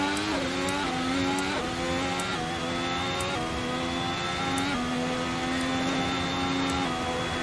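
Simulated 1.6-litre turbo car engine revving hard through repeated upshifts on a hot lap at Goodwood in Assetto Corsa, a steady loud whining drone with rising pitch sweeps and brief drops at each gear change, no talk.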